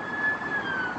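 An ambulance siren wails steadily from a distance, a sustained tone that holds without breaks over a faint background hum of traffic.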